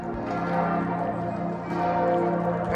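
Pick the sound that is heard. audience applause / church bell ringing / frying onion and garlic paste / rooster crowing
church bell ringing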